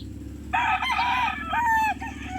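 A late-season stag, a young gamecock, crows once in a single drawn-out call, loud and close over a steady low background hum.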